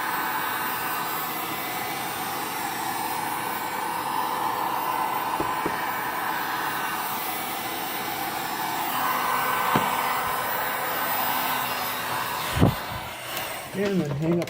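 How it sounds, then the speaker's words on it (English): Heat gun blowing a constant airy whoosh across Suzuki GS500F motorcycle headlight parts during an LED retrofit, steady and close for most of the stretch before a few clunks and handling noises near the end. "moving the heat gun around so you don't catch something on fire"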